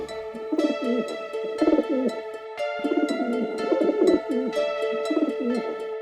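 Pigeons cooing close by in repeated throaty rolling phrases, several overlapping calls with short pauses between, loud and clear with no talking.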